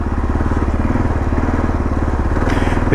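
A 2022 Kawasaki KLR650 single-cylinder motorcycle is ridden on mountain roads, its engine a loud, close, steady thumping pulse with no voices.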